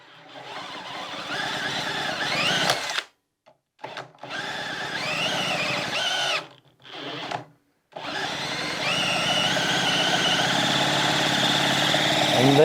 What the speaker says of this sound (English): Let's see if this moped fires up.